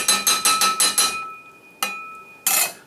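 Someone bangs on metal cooking pots in a kitchen. Six quick, ringing strikes come in a steady rhythm, then two more spaced hits follow, each leaving a sustained metallic tone. The sound is close and loud.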